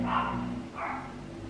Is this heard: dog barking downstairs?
yes